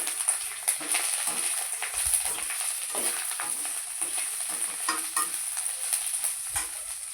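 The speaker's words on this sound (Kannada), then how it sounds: "ಕರಿಬೇವು ಮತ್ತು ಬೆಳ್ಳುಳ್ಳಿ ಹುರ್ಕೊಂಡಿದ್ವಲ್ಲ ಅದನ್ನು ಮಿಕ್ಸಪ್ ಮಾಡಿ ಸ್ವಲ್ಪ ಹುರಿಬೇಕು" Curry leaves and garlic fry in a pan while being stirred, giving a soft continuous sizzle with irregular scraping and stirring scrapes, close and fairly quiet, with no talking.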